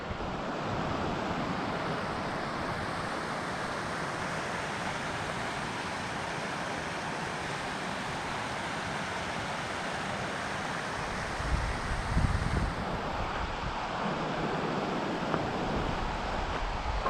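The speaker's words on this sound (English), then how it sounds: "Windy. Probably could hear it on my GoPro 7." Strong, constant wind roars and buffets a GoPro microphone on a mountain trail near glaciers in Rocky Mountain National Park, with a dull rush that swells briefly near the end.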